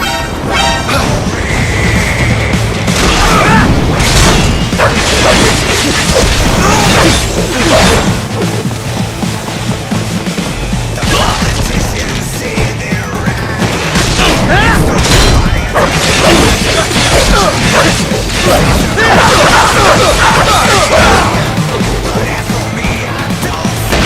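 Rocket blasts and crashing impacts fill a Metal Gear Rising Revengeance battle, loud and dense explosions and metallic smashes piling up continuously with whooshes between them.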